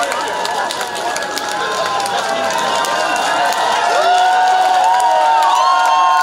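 A concert audience at a City Day show in Kommunar claps and cheers, a loud, steady wash of crowd noise with mixed voices rising toward the end.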